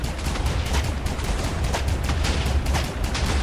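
TNT blocks fired from an aircraft in a Minecraft vehicle mod make a steady barrage of rapid, dense blasts. They run continuously at a loud, close level with no talk over them.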